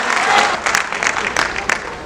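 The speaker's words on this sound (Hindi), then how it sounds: "जोरदार तालियां डॉक्टर कीर्ति काले की।" A crowd at a poetry gathering at Delhi's Red Fort applauds poet Dr Kirti Kale, a brief wave of clapping with scattered sharper claps, fairly loud and close, with a voice speaking over it.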